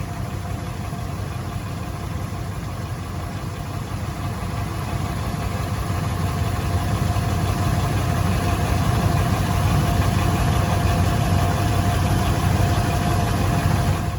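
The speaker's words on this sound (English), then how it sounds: "about mile 50 I noticed a weird sound coming from the front of the vehicle" A vehicle engine runs continuously with a steady low rumble and a faint knocking undertone after about 50 miles, loud and close, growing slightly louder partway through, no talking.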